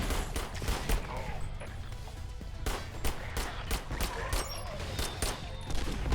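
Rapid bursts of gunfire from the video game Sentry crackle loudly and continuously, sharp repeated shots stacking in quick automatic volleys with brief gaps.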